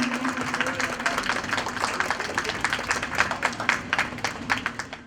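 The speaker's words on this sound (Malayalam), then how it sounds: "നമുക്ക് എല്ലാവർക്കും ഒന്ന് കൈയടിച്ച് സന്തോഷം പ്രകടിപ്പിക്കാം" Audience clapping at the foundation-stone ceremony for a new building at Kizhakkekkara Government East High School, a dense, steady patter of many hands lasting throughout, fairly close and moderately loud.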